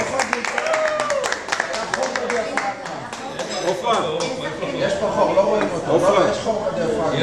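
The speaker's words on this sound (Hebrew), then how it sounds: "כפיים." An audience claps in a classroom or lecture setting, a burst of scattered hand claps rising and continuing for several seconds, with voices talking over and after it.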